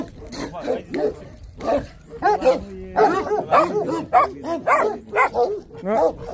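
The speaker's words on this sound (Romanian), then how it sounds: "Aici mai am un câine care nu-i din Bucovina." A mixed-breed dog at a Romanian goat farm with shepherd dogs barks and yips repeatedly, close by and loud, mixed with someone talking throughout.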